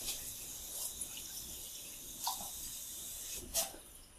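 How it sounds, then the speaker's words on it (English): Faint trickle of water being poured into a lab beaker, a soft continuous flow with a few small splashy peaks, quiet and close. "I am going to fill up my beaker here to 50 milliliters"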